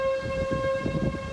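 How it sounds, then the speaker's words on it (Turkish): Tornado warning sirens sounding over settlements during a severe tornado outbreak, a steady sustained wail held throughout with a low rumbling background beneath. "Devasa hortumların güzergahındaki yerleşim yerlerinde uyarı sirenleri çaldı."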